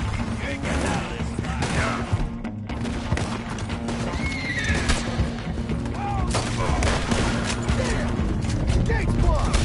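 Horses neigh and whinny amid a busy Red Dead Redemption 2 horseback chase, with hoofbeats, gunfire and shouting voices all layered into a loud, dense game soundscape.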